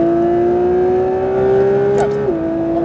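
Porsche 992 GT3 RS at full throttle on a track, a loud, steady engine note climbing in pitch under a coach's occasional calls before dropping sharply at a gearshift near the end.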